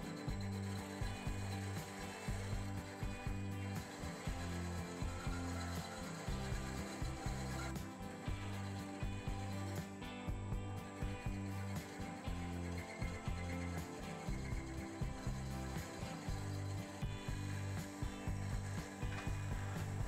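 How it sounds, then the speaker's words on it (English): Steady metal filing on a ball and socket joint, a dense continuous rasping with rhythmic strokes and a steady machine-like hum underneath, close and even throughout with no talking. "that's where I will start filing"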